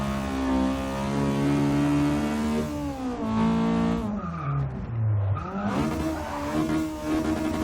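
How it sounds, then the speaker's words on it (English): A Honda Integra Type R engine revs hard and climbs in pitch as VTEC engages, then drops off before rising again, a loud close mechanical wail with no talk. "Obviously, VTEC kicking in at about 5 grand, so we want to make sure we keep those RPMs up nice and high."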